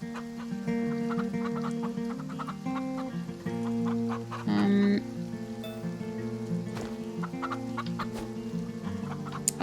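Chickens cluck repeatedly in the farming video game Farm Together, layered over a looping music track with rain-like patter, the bird calls frequent and close throughout.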